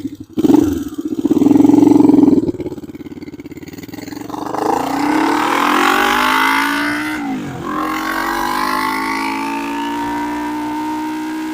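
A car passes on the road near a 1972 Honda CB450 motorcycle: a loud rising rush up close, then a long, steadily fading engine drone as it moves away.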